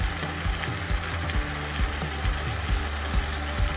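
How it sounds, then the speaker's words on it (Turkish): Minced meat fries loudly in a pan, a dense continuous sizzle close by with a regular pattern of soft thumps from stirring or tossing. "kıymalar bir taraftan kavrulurken"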